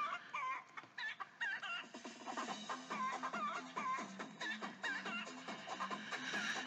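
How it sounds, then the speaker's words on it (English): Chickens cluck and squawk repeatedly in the Roblox game Crazy Elevator, a busy, jerky run of close fowl calls that keeps going throughout, with no talking. "Yes, the chickens!"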